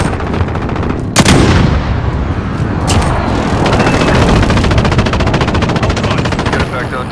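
Heavy gunfire and explosions from an airstrike in a shooter video game: loud blasts, then sustained rapid machine-gun fire with dense crackle, close and intense throughout.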